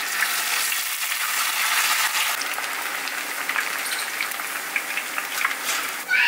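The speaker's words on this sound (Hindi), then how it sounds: "इसी तरीके से आपको तलना है सारा फ्रेंच फ्राई को" Potato french fries bubble and crackle in hot frying oil, a dense, close, steady sizzle with scattered pops, briefly louder near the end.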